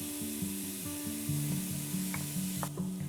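Onion sautéing in a pan for Croatian Zagorje potato soup: a steady close sizzle with scraping stir strokes throughout, no talking, over a faint low tonal hum.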